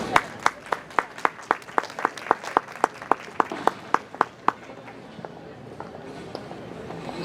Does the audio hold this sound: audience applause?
yes